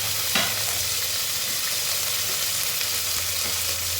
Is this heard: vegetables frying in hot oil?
yes